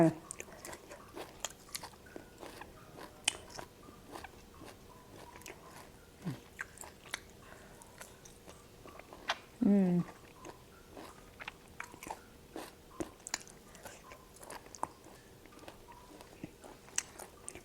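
Crunchy chewing of fried buffalo skin seasoned with herbs: close, irregular bites and crisp crunches scattered over a quiet, steady hum, with one louder bite midway.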